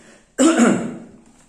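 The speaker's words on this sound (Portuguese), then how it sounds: "Dando um pigarrozinho aqui na garganta." A single gruff throat clearing, close and fairly loud, rasping for under a second before trailing off into quiet.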